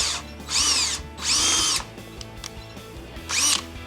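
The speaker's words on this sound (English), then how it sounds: "I'm going to go ahead and drill them out" Power drill boring out fasteners on a Jeep Gladiator JT front bumper: three loud whining bursts of drilling, each about half a second to a second long, separated by quieter pauses with faint clicks.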